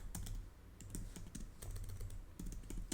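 Typing code on a computer keyboard: quiet, close clusters of key clicks in quick irregular bursts with brief pauses between them.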